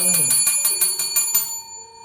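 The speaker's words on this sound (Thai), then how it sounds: "ในการขายของก็ต้องมีเจ้าตัวกระดิ่งนี่นะคะ" A seller's small hand bell rings in a quick series of about eight bright strikes over roughly a second and a half, each ring fading under a voice that talks throughout.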